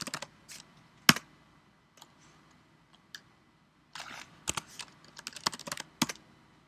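Keys clatter on a computer keyboard while a command is entered at a Windows command prompt, a few isolated clicks early on, then a quick burst of rapid, close-up keystrokes near the end, with no talk.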